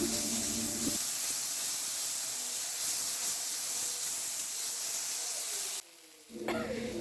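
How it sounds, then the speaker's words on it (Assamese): Tomato, ginger, garlic and chilli paste frying in a pan while being stirred, a steady loud hiss that cuts off sharply near the end before a brief rattle returns. "পেষ্টখিনি দি ইয়াতে অলপ সময় মই ভালদৰে লৰাই ভাজি আছোঁ"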